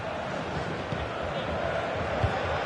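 A football stadium crowd during a Real Madrid versus Barcelona match gives off a dense, continuous roar of cheering throughout. A commentator talks over the crowd noise.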